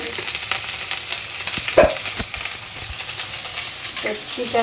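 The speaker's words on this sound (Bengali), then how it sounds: "দিয়ে দিলাম তারপরে টমেটো দিয়ে দিলাম কাঁচা লঙ্কা দুটো দিয়েছি" Capsicum, tomato and green chilli sizzle steadily in a hot pan for a paneer dish, with stirring clatter and a few brief utensil knocks over a constant hiss.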